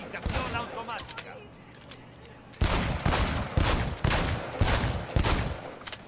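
Gunfire on a shooting range in the video game Cyberpunk 2077, a series of loud, sharp shots in quick, uneven succession, opening with a few scattered cracks before a heavier burst of repeated firing.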